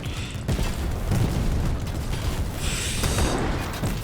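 An explosion in a video game booms as a loud, dense blast amid gunfire and mechanical noise, with a second burst following a moment later.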